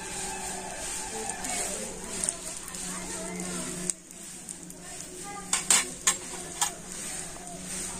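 Egg paratha fries in white oil on a pan, a soft steady sizzle with a few light utensil clinks and scrapes near the end.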